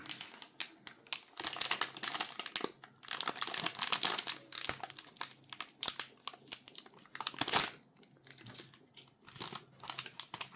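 Parchment-paper wrapping on a UK 24-hour ration pack food item crinkles and rustles as it is peeled open, in irregular bursts of close, crisp crackling over about ten seconds.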